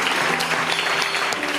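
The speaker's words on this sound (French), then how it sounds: "J'aimerais qu'on applaudisse pour ça." An audience at a church gathering applauds with dense, continuous clapping that stays loud and even for the whole short stretch, with no individual voices standing out.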